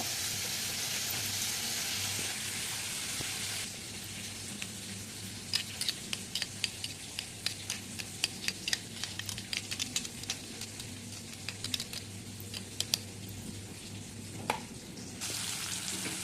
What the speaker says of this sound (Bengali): আটাগুলো আমার লাল লাল করে ফ্রাই করা হয়ে গেছে